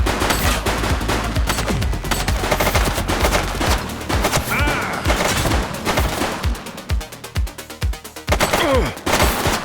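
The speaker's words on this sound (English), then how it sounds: "Shots fired!" Dense, loud video-game gunfire from The Precinct: rapid automatic bursts and overlapping single shots crackle almost without pause, sharp and close, with a few heavier booms.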